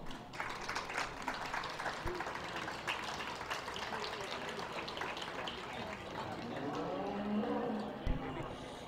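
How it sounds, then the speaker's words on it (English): An audience applauds at a beef cattle and feeder calf judging show at the 2023 Dodge County Fair, a steady spread of clapping under an announcer's voice. "Let's give these guys another big round of applause."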